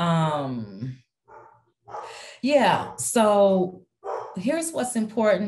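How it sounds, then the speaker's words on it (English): A pet dog barks and yips in several short bursts indoors, mixed in and overlapping with a person speaking during a talk on housing, the barks fairly close and clear between phrases. "that's my dog barking in the background."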